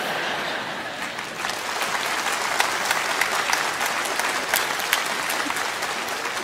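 A theater audience at a Vietnamese comedy sketch claps steadily, a crowd's continuous applause with scattered sharper claps standing out, sustained at moderate loudness from start to finish.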